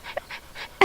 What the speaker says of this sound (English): How is she still barking when I'm holding her like this?